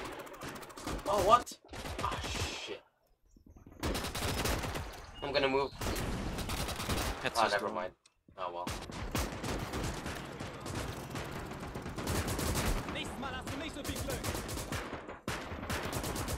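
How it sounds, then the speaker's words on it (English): Rifle and machine-gun fire from mountain troopers in the World War II game Gates of Hell crackles in dense bursts and volleys, with brief lulls, mixed with game sounds and players talking over it. "Mountain troopers in the rear. They're shooting at your transport."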